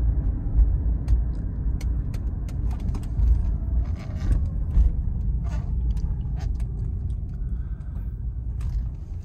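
A 2012 Toyota Prius Four drives along, its cabin filled with a steady low road rumble and tire hum, with faint small rattles and clicks inside the car.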